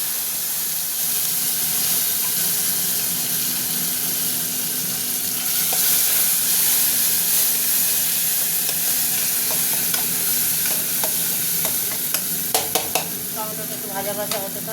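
Tomato sizzles and fries in a pan with cumin, bay leaf and chillies, stirred steadily throughout; a continuous close hiss with scraping strokes that grow more frequent near the end.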